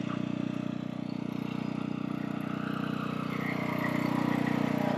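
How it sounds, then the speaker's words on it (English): Generator on a Forest River Crusader 2SUITE fifth-wheel RV running at a steady idle, a continuous low droning hum close by that swells slightly toward the end, with no voices. "There's that generator."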